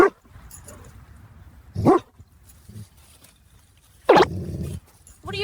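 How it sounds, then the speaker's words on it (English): A large dog barks in short, separate bursts outdoors, two sharp loud barks followed by a longer throaty one, with quieter pauses between. "What are you barking about when there's only one rock here?"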